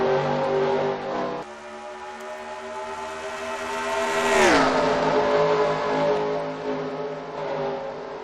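Race cars in a NASCAR video game accelerate at a green flag restart: a steady, loud layered engine drone that swells and sweeps down sharply as a car roars past, then settles back into a sustained pack hum, with no talking.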